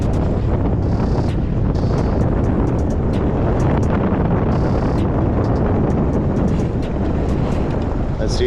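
Wind buffets a microphone by a seawall while fishing for snook, a loud continuous low rumble with gusty fluctuation and a few faint higher clicks throughout.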